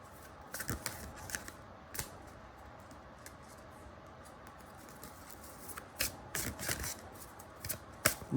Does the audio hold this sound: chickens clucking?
no